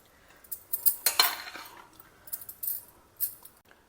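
A spoon mixes Puli Sadam, a tamarind rice, in a metal vessel, giving a run of close, quick clinks and scrapes in uneven bursts with no voices.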